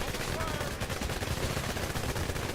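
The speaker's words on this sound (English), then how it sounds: "What's he shooting at?" Rapid gunfire in a video game, a dense continuous rattle of shots like a machine gun, loud and steady throughout the clip, with a voice talking underneath.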